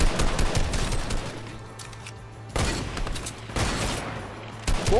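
Sniper rifle shots in the Fortnite video game, three loud sharp cracks spaced about a second apart with short echoing tails, over a continuous busy background of game noise.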